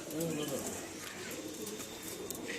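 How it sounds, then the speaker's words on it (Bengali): Pigeons coo softly among rows of caged Madras birds at a breeder's sale, the low burbling calls running under near, steady talk from a man showing the birds. "এই যে পায়রা"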